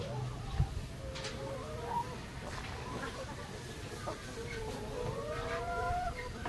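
DeKalb brown egg-laying hens cluck and warble steadily on a farm, a continuous flock chorus at moderate distance with a voice briefly audible.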